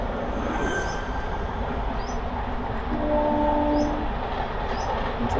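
A train rumbles past somewhere behind on Divar island in Goa, giving a steady, broad rolling noise across the whole stretch with faint higher tones over it and no talk.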